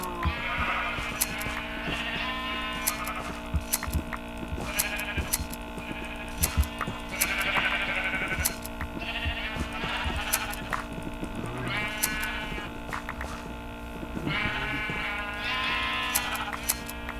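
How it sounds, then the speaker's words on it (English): Sheep bleat repeatedly in Minecraft, several calls overlapping at close range among other game sounds, with no talking. "All the wool is off the sheep that I saw, and I did see every sheep."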